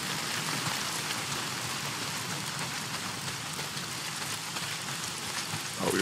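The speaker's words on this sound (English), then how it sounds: "A lot of it's pissing down rain." Heavy rain pours steadily in the video game Days Gone, a dense, continuous hiss that stays loud and even throughout, with a slight swell right at the end.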